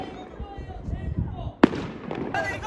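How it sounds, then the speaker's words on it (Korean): Outdoor New Year fireworks in Moscow crackle in the background, with one sharp, loud bang standing out, while someone talks nearby. "저 멀리서도 지금 터뜨리고"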